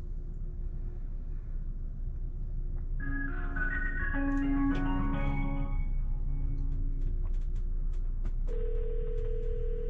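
A telephone ringing tone plays as a short electronic melody of tones, then shifts to a steady single tone, over a low rumbling background.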